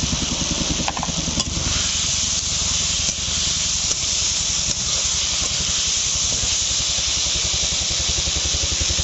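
Potatoes tossed into spices frying in a pan sizzle steadily at close range, a continuous hiss and crackle with some stirring scrapes, no voices, in a home kitchen preparing a sea tuna fish dish.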